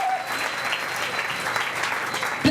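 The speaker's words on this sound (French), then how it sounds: "Acclamez pour ce verset" A congregation applauds a Bible verse in a church service, steady sustained clapping for the whole stretch with crowd murmur underneath.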